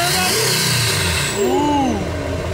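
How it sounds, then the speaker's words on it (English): A high-mileage tuned turbo car with an aftermarket exhaust and chip tuner revs hard nearby. The engine note swells and falls in a loud, close burst. "Yeah, you hear that turbo?"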